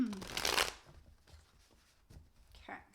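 A deck of tarot cards gets a quick riffle shuffle up close, a short crisp burst of flicking cards followed by soft handling taps and a faint voice.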